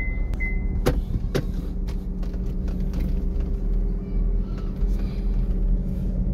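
A car drives along on the way to a car wash after sitting parked for a month, giving a steady low engine and road rumble with a few sharp clicks and knocks from the cabin, and no talk.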